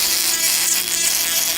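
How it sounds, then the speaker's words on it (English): A power tool fitted with a coarse sanding band whirs steadily at high pitch, a continuous grinding buzz close to the listener with no break. "I'm already using the coarse sanding band"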